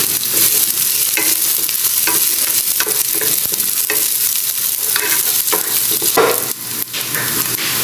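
Onion stir-frying in a pan for shrimp-and-corn fried rice, a loud steady sizzle broken by repeated scraping and clattering stirs of the spatula throughout, close up with no talk.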